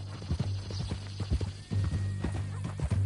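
Steady clip-clop of horse hooves at a walking pace in the video game Red Dead Redemption 2, fairly close, with a low droning hum beneath and brief murmurs in the background.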